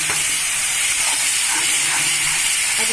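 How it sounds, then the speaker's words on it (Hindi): Tomato paste hits hot masala in an oiled kadhai for a soya chaap dish, giving a loud, steady, broad sizzle that hisses continuously throughout. "अब हम इसके जो टमाटर का पेस्ट है वो डालेंगे।"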